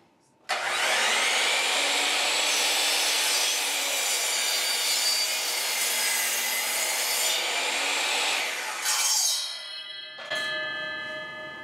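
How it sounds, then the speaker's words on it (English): Bosch CM10GD miter saw making a 45-degree bevel cut through wood: the motor spins up sharply, then a steady loud cutting whine runs for about nine seconds before the blade winds down, close and alone. "now let's do a bevel cut"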